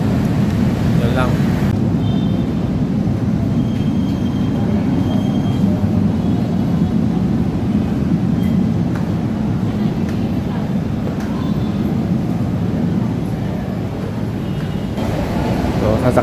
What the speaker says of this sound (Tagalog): Sasakay na naman tayo ng LRT.